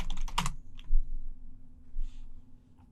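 Computer keyboard keys tapped in a short burst as a command is typed, followed by a keypress for enter, with a few scattered clicks after; close and fairly quiet against a low steady hum.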